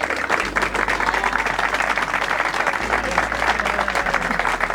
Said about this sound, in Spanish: Un fuerte aplauso para Damián.